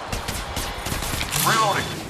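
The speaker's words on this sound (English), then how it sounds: "Shooting." Rapid gunfire in the battle royale game Apex Legends, a fast train of shots beneath an overlapping voice, with a brief swell of noise near the end.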